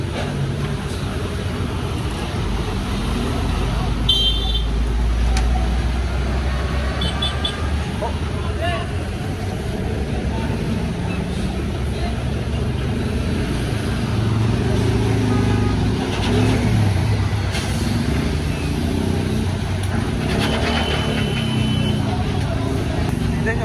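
A large bulldozer engine runs steadily during road clearing on Road 10, a loud continuous diesel rumble with occasional revving swells, while someone talks over it.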